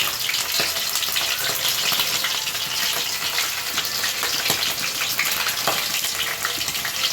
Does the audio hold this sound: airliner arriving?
no